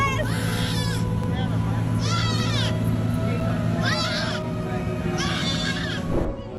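A trapped fawn stuck in a drain cries out in pain with four repeated, wavering bleats over a noisy background of crowd babble and a steady engine-like rumble.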